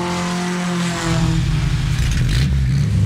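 A race car engine revs hard, its loud idle rumble rising suddenly into a roaring, high-pitched rev that holds close and steady with no voices.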